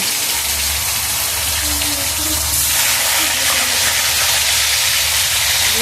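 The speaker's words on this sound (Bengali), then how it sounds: "আমি আবার মাংসগুলোকে তুলে ভেজে দিয়ে দিলাম" Meat frying in a pan gives off a loud, steady sizzle and hiss that runs unbroken for the whole stretch, close and continuous with no pauses.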